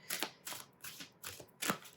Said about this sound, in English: Let's try to shuffle.